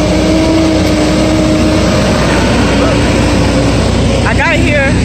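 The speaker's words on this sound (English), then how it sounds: "The truck just started and is rolling." A semi truck engine at a loading dock, a loud, steady low rumble and drone as the truck starts and rolls, continuous and near, with someone speaking over it.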